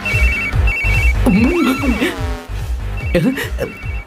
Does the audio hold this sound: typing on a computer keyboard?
no